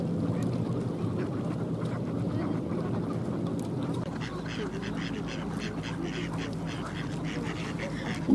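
Ducks wintering at Tsarskoye Selo quack repeatedly outdoors, with bursts of calls that grow busier in the second half over steady wind noise and a low background rumble.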